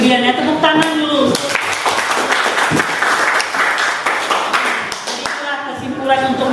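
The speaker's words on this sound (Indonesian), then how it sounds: "Tepuk tangan dulu." A classroom of students claps in a lively burst of applause, with voices calling out over the patter before it fades.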